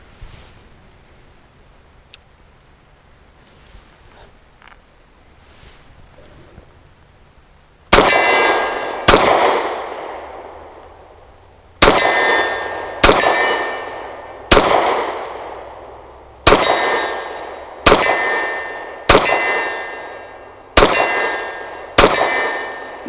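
Pistol shots from a Beretta APX A1 Compact at an outdoor range ring a distant steel target. After a quiet stretch, about ten sharp, loud reports come in an uneven rhythm, each followed by a long metallic ring.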